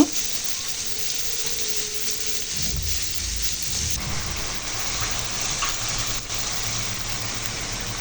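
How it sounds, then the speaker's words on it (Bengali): Hilsa fish frying in a pan, a steady loud sizzle and crackle of hot oil that continues without pause throughout. "ইলিশ মাছটা এই যে ভাজতে দিয়েছি ইলিশ মাছটা ভেজে এরপর ভুনা করে নেব"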